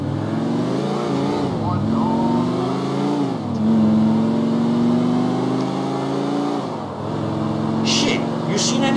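A car in a video game drives along with a steady, sustained engine drone that rises and shifts in pitch as it accelerates, close and prominent throughout, with voices and game sounds mixed underneath.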